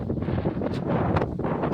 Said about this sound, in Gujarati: અહીંયા બહુ અસલ હવા આવે, ગરમી છે તો એ આર્યા